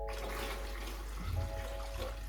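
Water poured into a bag or container for shipping coral, about 1.5 liters, a steady close splashing pour with a brief louder gurgle midway, no talk.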